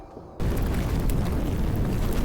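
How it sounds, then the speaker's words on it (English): Fireworks exploding in the video game Love and Deepspace, set at a music hall: after a brief quiet moment, a loud sustained roar of booming bursts erupts and rolls on without a break, dense and close. "Violent explosions and fire erupt one after another to create intense symphony."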